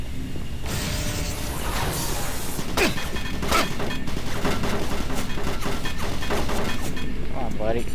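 Enemy gunfire in Doom 3: Resurrection of Evil, set in a lab area, crackling in dense, near continuous bursts of shots and mechanical clatter over ambient game sound, with speech-like sounds mixed in.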